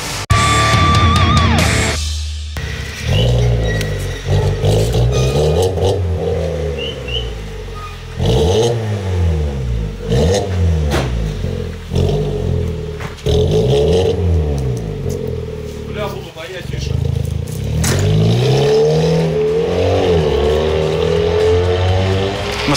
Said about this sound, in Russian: Ну что же, очередной автомобиль с отличным звуком выхлопа теперь доработан.